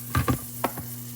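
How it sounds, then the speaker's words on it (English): A grilled cheese sandwich sizzles in a frying pan, a close steady hiss broken by a few short clicks and scrapes, with no voices. "so while that's sizzling, look at that beauty."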